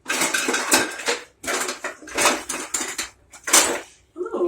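A metal spoon clinks and scrapes against a bowl while beef barley stew is served, in several bursts of bright clattering separated by brief pauses, close and fairly loud.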